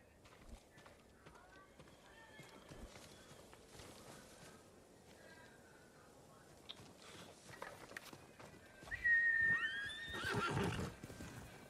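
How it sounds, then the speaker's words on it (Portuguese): A horse in the video game Ghost of Tsushima neighs loudly near the end after quiet hoof steps and faint game ambience, with someone talking softly over parts of it. "O cavalo, você viu, o cavalo tava ali e saiu do meu lado"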